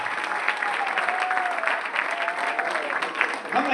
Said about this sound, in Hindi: एक जोरदार ताली होना चाहिए सर